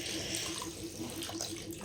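Water pours steadily from a brass vessel over a Thakur ji deity idol during a ritual bath, a continuous close splashing trickle at low volume.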